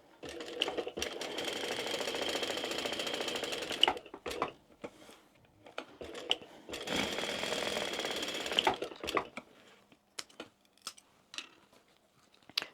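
A sewing machine top stitches with Tech 70 thread at a 4.5 stitch length, running in two long steady bursts separated by short pauses, followed by scattered clicks and handling sounds.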